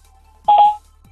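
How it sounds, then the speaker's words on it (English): Single short electronic beep from a 2016 Toyota Entune hands-free system after the off-hook button is pressed, a clear tone of about a third of a second in a quiet car cabin. "Press the off-hook button. Wait for the beep."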